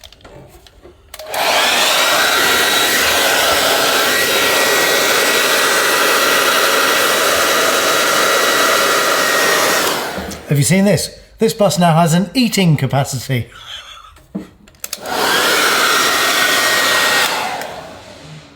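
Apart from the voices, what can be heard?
hairdryer heating vinyl decals on a bus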